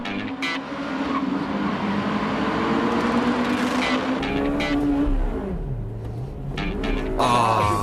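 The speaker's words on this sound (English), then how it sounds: "Still, the Civic R passes the light-tuned Altezza on the inside." A Honda Civic Type R races a light-tuned Altezza at East Davis Circuit: loud, close engines howl and climb through the revs, dip sharply at a shift, then wind back up with no talk.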